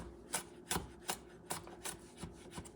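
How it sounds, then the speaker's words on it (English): A knife chops garlic cloves on a cutting board for Puerto Rican rice with pork ribs, seven or so crisp, evenly spaced taps about every third of a second, close and fairly quiet, alone without talk. "make sure you have some garlic, about 3 teeth. Just cut it in."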